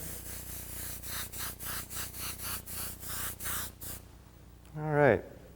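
An airbrush sprays yellow paint in about a dozen short rhythmic hissing bursts, close and steady, before falling quiet, followed by a brief voiced sound near the end.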